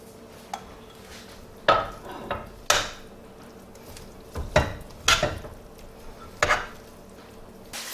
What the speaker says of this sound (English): I'm going to put that peanut butter sauce on there and get it all mixed together